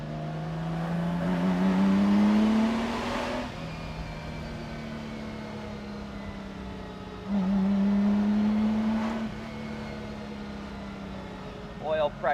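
A restored Lamborghini Miura SV runs under way, its engine rising in two clear acceleration pulls with gear changes between, the revs settling back to a steadier drone, while someone talks over it.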